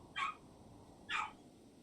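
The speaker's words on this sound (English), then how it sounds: "Doggy's barking outside." A dog barks outside in the game RimWorld, two short, faint, evenly spaced barks about a second apart over a quiet background hiss, with no talk.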